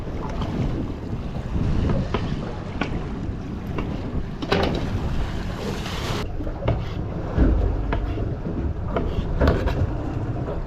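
Strong wind buffets a small fishing boat rocking at sea, a steady roar of gusts and rushing air across the microphone with faint water slaps underneath and no voices.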